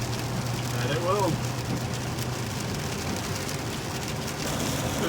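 Steady rain falls on a pop-top camper van at night, a dense, even patter drumming on the roof throughout, with a faint brief voice-like sound early on.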